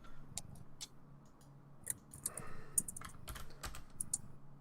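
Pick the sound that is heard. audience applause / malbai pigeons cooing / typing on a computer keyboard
typing on a computer keyboard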